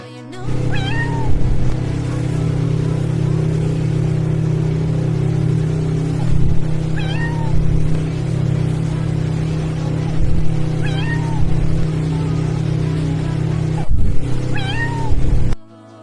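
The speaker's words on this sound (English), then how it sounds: "This tiny calico kitten is absolutely furious because she was grounded for life." An angry tiny calico kitten meows and yowls at a shut door, with loud, close, repeated drawn-out cries over a steady low rumble, several in a row with pauses between, and no voices.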